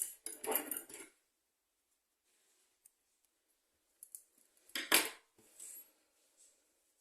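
Crochet yarn for a granny triangle is snipped with scissors in a quiet room: a short cluster of crisp snips, a long pause, then another brief burst of clicks.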